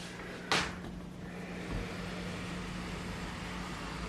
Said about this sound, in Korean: 이 중문을 열고 나가면